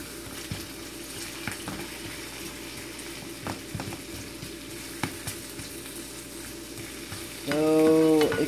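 Potatoes with cinnamon and nutmeg sizzle steadily in a pan, a constant close crackling hiss with scattered pops, then a brief stirring clatter and louder burst at the end.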